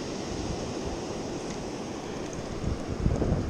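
Ocean surf at Flagler Beach, Florida forms a steady broadband wash mixed with wind noise. It grows slightly louder near the end as a wave breaks, and no one talks.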